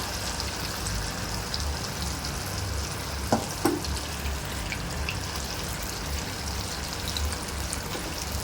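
Chana fries in hot oil over a high flame for garlicky Mumbai-style fried chana, making a steady rain-like sizzle that holds constant throughout, with a couple of faint clinks, close and moderately loud.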